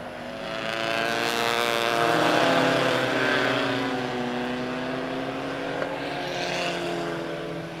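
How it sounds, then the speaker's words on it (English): Hornets-class race cars lap the oval at Lebanon Midway Speedway, their engines a loud sustained roar that swells as the pack passes close and then holds steady, with no commentary audible. "One more lap to go for the 17 of Randy Dye."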